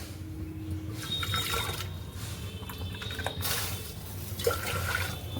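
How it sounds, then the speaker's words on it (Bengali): Hot water being poured into a pressure cooker on a home kitchen stove, a running splashing pour that swells and fades in bursts, close by, with no one speaking. "এই গরম জলই তুলে তুলে দিয়ে দিই"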